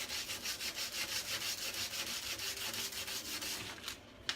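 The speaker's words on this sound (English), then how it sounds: "Is use sandpaper to cut them." Sandpaper rubbed steadily along the edges of decorative wrapping paper decoupaged onto a desktop, a close, regular back-and-forth scratching in even strokes that ends with a brief pause and one sharp tap.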